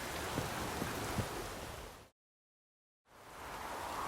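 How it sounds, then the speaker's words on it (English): Steady rain hiss in The Witcher 3: Wild Hunt, a broad even wash of falling rain that cuts out to silence for about a second before returning. "Looks like rain."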